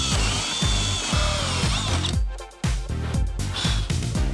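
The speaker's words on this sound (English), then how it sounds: "I'm now drilling through with the hole saw." A power drill with a hole saw grinds loudly and steadily through a cargo trailer camper wall, revving in repeated pulses with a brief pause midway.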